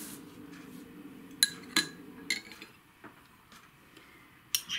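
A metal spoon clinks and scrapes against a container of sour cream several times, sharp close taps between quieter soft scooping sounds.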